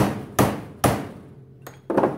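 A punch is hammered to drive a pin back into place on a Yugo SKS rifle, with three sharp metallic hammer strikes close by, spaced unevenly, the last one softer and doubled.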